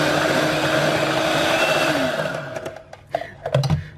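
An electric mixer whisks cream, vanilla and salt into rich cheesecake batter in a very full bowl, a loud steady whir that winds down and ends in a few scraping knocks against the bowl.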